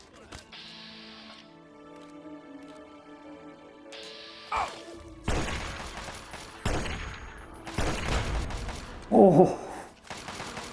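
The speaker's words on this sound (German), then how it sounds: "Verdammt, was ist da gerade vor mir explodiert?" Several heavy blasts burst out one after another in the wasteland of the video game Fallout 3, loud and booming over a steady musical drone, with a voice crying out near the end.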